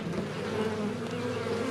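Honeybees in a freshly opened hive of new bees hum in a dense, steady buzz, close up and uninterrupted, with no talking over them.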